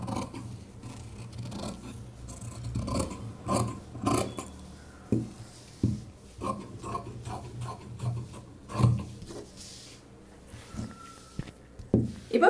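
Scissors cutting blouse fabric along marked lines during tailoring, heard up close as a series of uneven snipping and rasping strokes with no talk.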